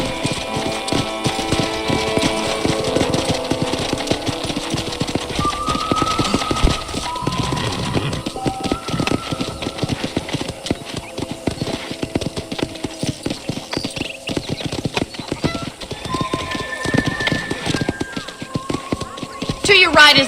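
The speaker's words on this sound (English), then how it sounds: "let's see if you can still ride a horse" Horse hooves clip-clop at a steady riding pace in the Red Dead Redemption video game, continuing evenly for about twenty seconds with a faint voice and game sounds in the background.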